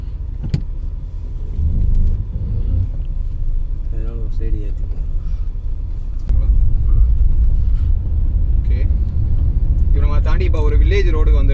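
A Mercedes C-Class E220d diesel car reverses with a steady low engine rumble throughout, growing slightly louder partway through, while someone talks over it intermittently.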